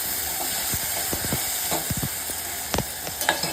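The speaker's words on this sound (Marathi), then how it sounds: "तेलावर परतून घ्यायचं" Curry leaves and green chillies sauté in hot oil for a paneer dish, giving a close, steady sizzle with scattered sharp crackles and clicks of stirring; no voices.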